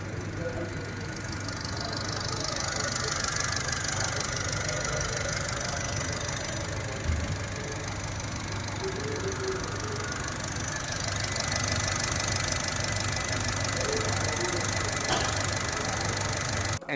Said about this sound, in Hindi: अब सुनते हैं इंजन की आवाज़